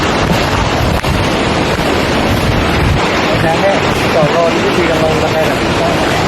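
Khun Phra Wo waterfall in Mae Ramat, Tak, pours as a steady, loud broadband rush of falling water, mixed with wind buffeting the microphone, while a voice speaks briefly over it.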